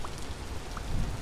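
Steady rain falls in the survival game Vintage Story, a dense, even patter with no other sounds.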